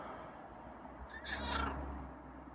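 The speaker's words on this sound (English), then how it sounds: "he meowed" A feral cat gives a single faint meow, short and somewhat distant, over a quiet background.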